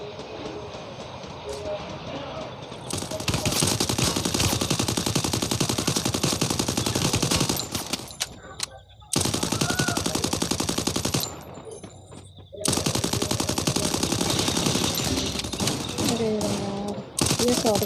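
Dense, continuous automatic gunfire in a video game roars in long bursts broken by brief silent gaps, with a voice talking under the din.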